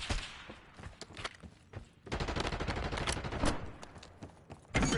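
Bursts of rapid gunfire crackle through a video game firefight, with sustained automatic volleys and heavier stretches of shooting, loud and close, broken by brief lulls.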